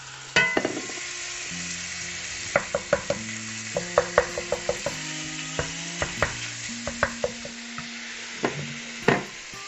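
Beef mince frying in a pan for chilli, a steady sizzle under a run of sharp spatula taps and scrapes as the meat is stirred and broken up, close and fairly loud, no talking.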